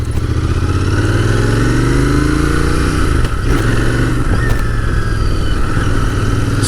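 Royal Enfield Interceptor 650 motorcycle ridden over rough road, its steady twin-cylinder engine note loud and continuous with gear-change dips and rising pitch, plus wind noise throughout.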